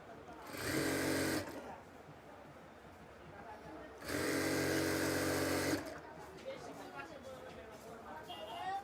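A sewing machine stitches palazzo skirt seams in two loud bursts, about a second and nearly two seconds long, with quiet pauses and a voice talking between them.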